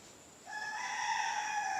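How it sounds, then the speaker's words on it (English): A rooster on a property where chickens are kept lets out a single clear, sustained crow from a short distance away, rising out of quiet background hiss about a third of the way in. "as you can hear, I got a rooster in the background right now"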